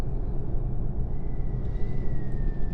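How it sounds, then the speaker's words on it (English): Steady low road rumble of cars whizzing past a quiet Tesla Semi electric truck in American Truck Simulator, leaving Reno, with a faint tonal whine running through the continuous traffic drone. "those are all cars whizzing by because we're that quiet"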